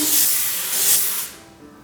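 Two short bursts of cooking oil spray hiss up close onto a steamer liner, the second trailing off quickly into quiet.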